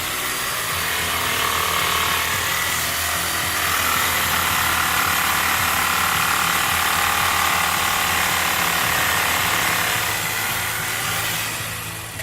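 A power tool cuts down the heel of a horse sneaker shoe, giving a loud, steady mechanical grinding whine that runs for about twelve seconds with no talking and tapers slightly at the end.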